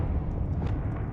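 A Confringo blasting spell explodes in Hogwarts Legacy: a short, heavy, low rumbling blast with a muffled crackling tail, loud and close, no speech.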